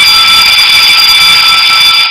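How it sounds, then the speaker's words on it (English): School alarm at a women's summit in India rings as a loud continuous electronic buzz-tone, steady for about two seconds before it cuts off abruptly. "School alarm."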